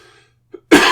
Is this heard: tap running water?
no